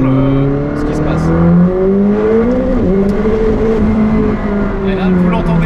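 McLaren 765LT sports car pushed hard through a curve, its engine droning and rising in pitch as it holds speed through the bend, heard from inside with someone talking over it.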